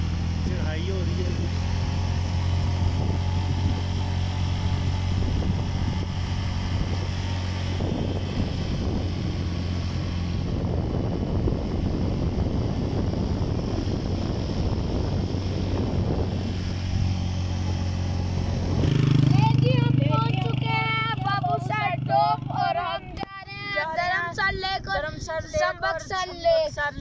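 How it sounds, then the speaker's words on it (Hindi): A motorcycle engine drones steadily as the bike climbs a mountain road toward Babusar Top, loud wind rushing over the microphone, with someone talking over it near the end. "ये बाइक को चढ़ाई हो रही है"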